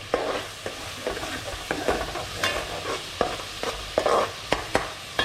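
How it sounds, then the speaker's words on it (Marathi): Masala paste for a Koli-style barramundi curry cooks in oil on a low flame while a spoon scrapes and stirs it in a pan, giving a soft continuous sizzle broken by repeated scraping strokes. "हळू गॅसवरती वाटणं फिरवत राहा नाहीतर खालचं वाटणं करपून जाईल"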